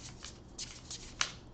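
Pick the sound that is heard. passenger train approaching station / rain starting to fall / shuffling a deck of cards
shuffling a deck of cards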